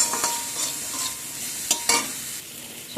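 Spiced potato tikki filling being stirred and mixed, short scraping and squelching strokes at close range, with a couple of sharper clinks, and no talking.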